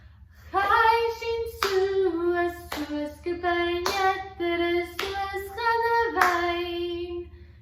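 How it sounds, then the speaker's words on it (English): A group claps along to a song while voices sing a sustained melody, sharp hand claps landing at a steady beat over the tune, moderately close. "I want to hear you clapping and trying to sing along at the same time"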